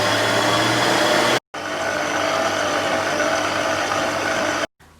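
An electric mixer on low speed beating cupcake batter runs as a steady broadband whir, briefly cut off twice with short silent gaps, no talking over it.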